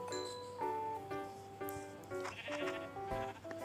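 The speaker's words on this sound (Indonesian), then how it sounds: "Oh, di sana lagi domba. Dombanya warna hitam." A black sheep in Minecraft bleats several times in a steady series of wavering cries, set against quiet game ambience with faint clinking.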